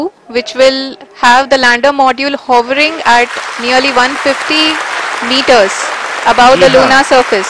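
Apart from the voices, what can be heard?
scientists applauding in mission control during Chandrayaan-3 landing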